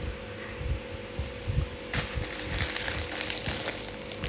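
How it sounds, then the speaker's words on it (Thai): An electric fan running in a room, a steady whooshing hum that grows louder and brighter about halfway through, with faint clicks and rattles early on. "ได้ยินเสียงพัดลมเยอะดิ"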